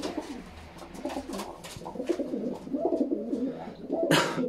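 Domestic pigeons in a loft coo steadily, with repeated soft throaty calls close by and a brief burst of flapping or rustling near the end.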